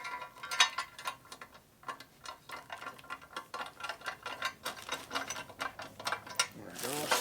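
Rapid ratchet clicks in bursts loosen a stubborn, thread-damaged bolt on a Harley-Davidson S&S 113ci Evo engine, close and fairly quiet, with short pauses between strokes.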